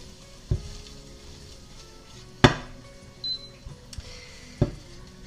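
Onions and cod fry in a pan, a quiet sizzle running underneath as a few sharp utensil clinks and knocks against the pan ring out at irregular intervals.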